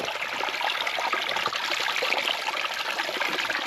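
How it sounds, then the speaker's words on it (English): Steady rushing trickle of a small creek flowing over rocks, continuous and fairly close, with no voices. "It's got good water flow."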